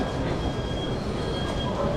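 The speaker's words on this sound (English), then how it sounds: "Kind of weird looking trams." An airport tram rumbles past in a continuous rolling roar, with wheel and rail noise and a faint high squeal, heard fairly close.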